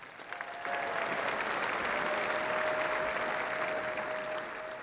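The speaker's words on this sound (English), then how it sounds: "So one more round of applause for CC Sabathia and our very own Tom Hamilto" Steady, sustained applause from a large crowd at a sports awards ceremony, filling the whole stretch at an even volume with a faint tonal hum running underneath.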